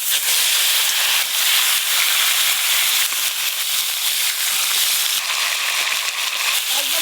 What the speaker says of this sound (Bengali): এবার মাছের মাথাগুলো ভালো করে ভেজে নেব